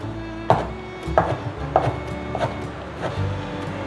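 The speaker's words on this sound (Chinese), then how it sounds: "把杏鲍菇切条" A knife chops a king oyster mushroom into strips on a board, six or so crisp, evenly spaced cuts landing alone and close.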